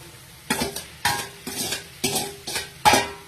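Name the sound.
stirring fried corn in a pan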